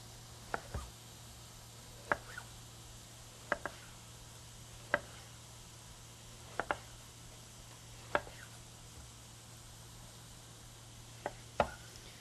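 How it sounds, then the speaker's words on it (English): A knife slicing an eggplant on a cutting board, about nine crisp, evenly spaced chops over a low background hum, each cut distinct and close. "Just going to cut off the end of that eggplant, and then I want to make some nice slices of that."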